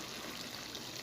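Cream, 200 ml, pours into chicken karahi as a short steady liquid stream, close and continuous for about a second.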